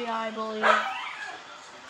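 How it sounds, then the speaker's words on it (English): A dog barks once in the middle of a short stretch, close and fairly loud, with a person talking before and during it. "That's just my dog."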